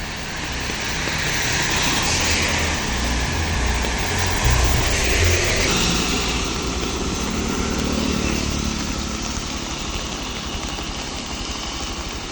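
Heavy summer rain pours down steadily as light traffic passes, a dense, loud wash of hiss with a low engine rumble rising and fading as a vehicle goes by, and no talking.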